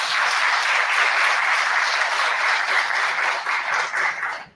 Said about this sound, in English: please join me in another round of applause for the speakers